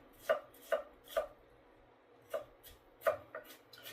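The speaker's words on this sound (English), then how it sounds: "I'm going to try and mince these really nice and small." A knife finely mincing food on a board for a low-carb meatloaf, with sharp, close chops in an uneven rhythm: three quick strikes, a pause, then several more.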